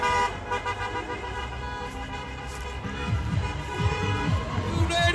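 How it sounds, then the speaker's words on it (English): Train horns fitted to a truck at an election-eve outdoor rally in a South Philadelphia park, blaring sustained multi-tone blasts over crowd noise and engine rumble. "And it's got train horns on it."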